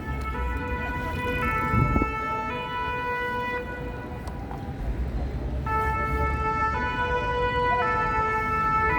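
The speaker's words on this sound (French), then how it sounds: "ça fait les sirènes, les pimpons" Two-tone emergency siren wailing at the end of a street march for International Women's Day, alternating pitches repeating steadily, fairly loud over a busy crowd and traffic background.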